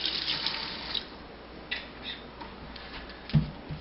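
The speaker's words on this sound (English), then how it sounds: "Rinse that off a little bit." Water running from a kitchen tap while chopped onion is rinsed for chili, a steady close stream with small clatters and a thump near the end, no speech.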